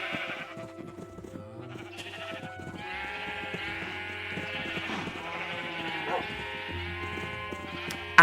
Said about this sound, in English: Come on, brown sheep